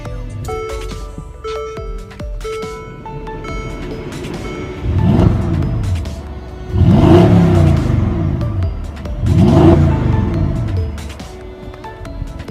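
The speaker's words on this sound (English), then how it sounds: "Very nice exhaust sound." A car engine starts up close by, then revs three times in quick succession, the exhaust roaring with each blip before dropping back to idle.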